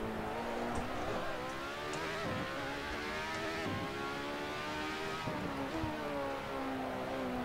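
Lotus T125 race car in Assetto Corsa, its engine revving loud and close with rising pitch sweeps and brief drops between shifts, continuous throughout with no talk.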